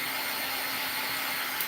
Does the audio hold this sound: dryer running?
yes